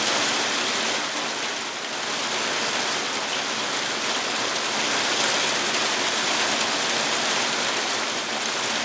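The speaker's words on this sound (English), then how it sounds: "the rain's actually coming out pretty darn good right now" Steady outdoor rainfall on a northern canoe trip, a dense continuous hiss of drops pattering on surfaces, loud and even throughout with no talking.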